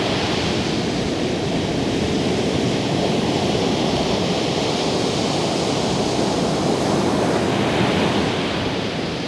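Ocean swells rolling in at a beach make a continuous broad wash of surf noise, steady and fairly loud throughout with some wind over the microphone and no voices.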